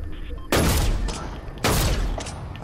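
Two loud, close gunshots in a shooter game, about a second apart, each a sharp crack with a long echoing tail over faint background noise.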